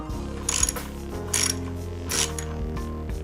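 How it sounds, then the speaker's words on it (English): A tool ratchets in short bursts while bent steel pieces are screwed onto the forks of a 36-inch unicycle pannier rig. Three clicking bursts ring out close by over a steady mechanical hum, with no talking. "I will go ahead and screw those on right now."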